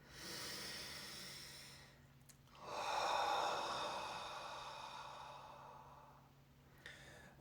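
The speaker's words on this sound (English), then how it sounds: "Take an inhale and exhale first." One big breath during meditation: a soft airy inhale, a pause, then a long, full, sighing exhale, close and alone in a quiet room.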